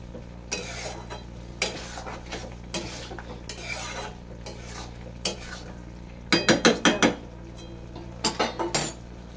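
Masala for soybean kofta curry being stirred and sautéed in a pan, with repeated scraping and clinking of a spatula or spoon against the pan over a soft background sizzle, including quick bursts of several strokes.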